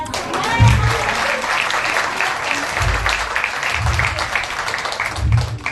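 An audience at a church gathering in Dehradun claps together, giving a steady wash of applause at moderate distance with some low thumps mixed in.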